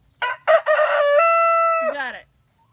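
A nearby rooster lets out a loud, full crow: two clipped opening notes, then a long sustained call that trails off into a falling warble.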